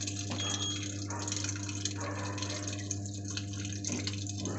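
Water runs steadily into the drum of an IFB TL-REW Aqua 6.5 kg top-load washing machine, a continuous rushing wash with a low steady hum and faint clicks, close by and with no talk.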